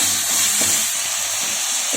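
Onions and squeezed tomatoes sauté with a pinch of salt in a pan for a country-chicken curry, a steady close sizzling hiss with soft stirring movements and no talk.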